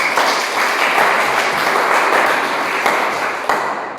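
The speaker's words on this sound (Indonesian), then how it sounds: "tepuk tangan tolong" A class of students applauds at the end of a school lesson, giving dense, steady clapping that holds for about four seconds and then fades slightly near the end.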